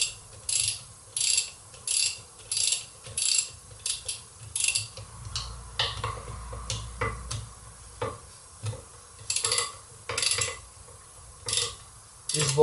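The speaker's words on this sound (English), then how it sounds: "find the best place to unscrew these bolts" A ratchet wrench clicks in quick repeated bursts while loosening the clutch bell housing bolts on the gearbox of a 1987 Toyota Corolla GT AE86. The clicks are close and rhythmic, and a few heavier metal knocks come near the end.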